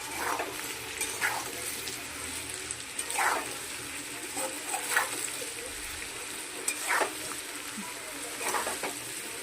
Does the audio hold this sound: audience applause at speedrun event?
no